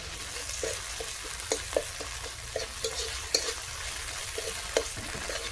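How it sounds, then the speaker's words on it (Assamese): Tomatoes fry in a pan, seasoned with turmeric and salt, giving a soft, quiet sizzle punctuated by light taps and scrapes of a spoon stirring every half second or so, nearby, with no voices. "এতিয়া আমাৰ টমেটোখিনি ভজা হৈ গ'ল"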